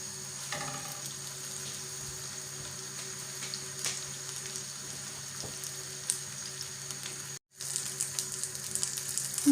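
Eggplant slices frying in hot oil in a pan, a soft steady sizzle with faint crackles and a brief gap near the end.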